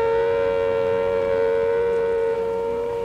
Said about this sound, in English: That siren sound,